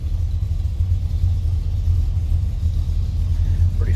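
A 1957 Chevrolet 150 two-door sedan idles with a steady, low rumbling engine note that is close and fairly loud. It runs evenly throughout with no voices.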